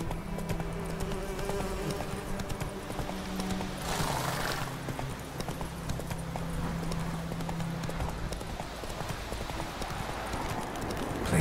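Roach the horse gallops in The Witcher 3, with steady clip-clop hoofbeats running throughout over an ambient game background, plus a brief whoosh partway through.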